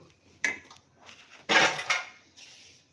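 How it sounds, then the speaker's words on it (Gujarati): A few metallic clanks of a pan being set down on a gas stove, separated by short pauses, close and fairly loud. "હવે આપણે એક પેન મૂકીશું"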